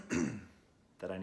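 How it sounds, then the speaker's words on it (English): A person clears their throat in two short, close, gravelly bursts separated by a brief pause in a quiet room. "I need to clear my throat."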